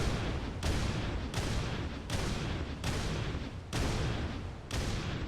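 Repeated heavy gunfire from basic guns in an indie game still in development, loud booming bursts recurring roughly every half second to second, with no talk.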